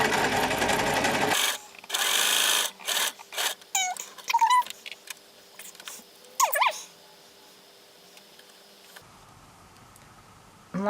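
A home sewing machine chain piecing log cabin quilt block strips with a quarter-inch seam, stitching in a loud opening burst, then short stop-start runs with fabric handling between.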